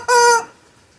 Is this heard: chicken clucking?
yes